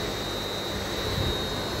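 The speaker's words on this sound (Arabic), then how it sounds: "طبعا هنا المحرك صغير لسهولة التجربة، لا يتعدى 2 حصان ويعمل على فراغ" A small electric motor under 2 hp, fed from a solar inverter, runs without load, giving a steady, even hum with a faint high whine and no change over the short stretch.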